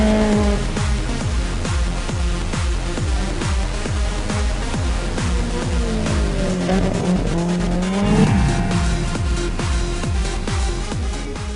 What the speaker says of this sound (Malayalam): ഇതിനിടയിൽ മോട്ടോർ സൈക്കിളുകൾ തമ്മിലുള്ള ശക്തമായ മത്സരവും നടക്കുന്നുണ്ടായിരുന്നു.